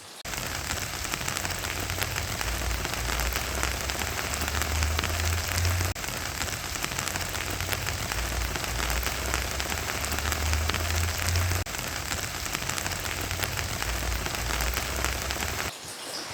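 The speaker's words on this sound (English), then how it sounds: "So this time the raindrops came fast and furious." Fast, heavy rain pours steadily onto a Carolina garden, a dense, loud, unbroken patter close by that lasts throughout without any voices.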